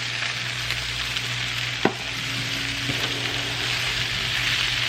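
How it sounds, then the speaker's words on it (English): Hash brown potatoes sauté in a pan for a brunch frittata, giving a loud, steady frying sizzle throughout with one sharp clink partway through and no voices. "And we're going to saute these"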